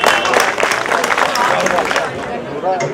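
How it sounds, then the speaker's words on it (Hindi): Audience at a mushaira poetry gathering in Indore claps loudly, busy overlapping applause mixed with crowd chatter and a speaking voice over it. "एक बार जोरदार तालियां बजाइए इस जलसे के लिए।"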